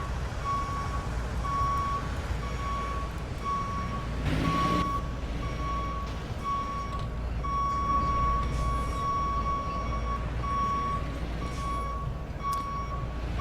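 Repeated reversing beeps ring out steadily from a tiller fire truck manoeuvring in the EmergeNYC game, heard over a low truck engine rumble, with a brief hiss of air brakes partway through.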